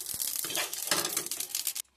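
Fenugreek seeds dry-roast in a pan for mango pickle, giving a dense, close crackle and scrape of stirring that stops abruptly near the end, with no talking.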